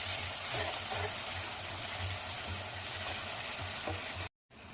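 Turmeric stirred into ginger garlic paste frying in a pan for a small-fish curry, a soft, steady sizzle with faint rhythmic scraping, brief silence near the end.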